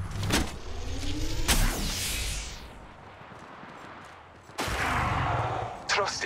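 Gunfire in the mobile battle royale game Apex Legends Mobile, sharp bursts of shots and rapid firing with mechanical clatter, loud and close amid game sounds.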